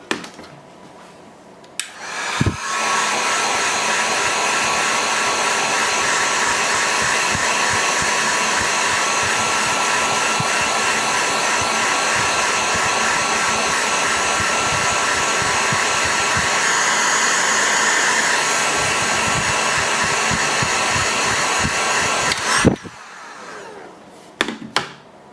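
A heat gun shrinking heat-shrink tubing over paracord sleeving on a non-modular PSU's wires gives off a loud, steady airy roar. It starts abruptly, holds for about twenty seconds, then cuts off, with small handling knocks underneath.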